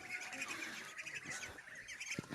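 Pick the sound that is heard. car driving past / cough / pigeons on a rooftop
pigeons on a rooftop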